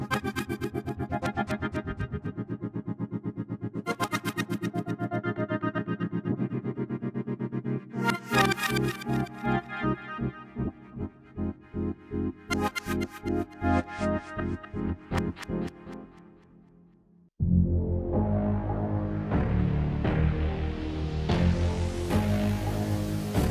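An analog synth patch from 8Dio Hybrid Tools Neo plays pulsing, gated notes with a pitch envelope, choppy rhythmic bursts that stutter and fade before a fuller sustained tone swells in at the end.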